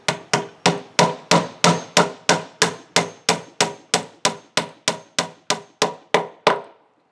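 About twenty sharp, evenly spaced hammer blows driving a wooden dowel into recycled lumber for a Japanese soaking tub, loud and close, in a steady rhythm before stopping.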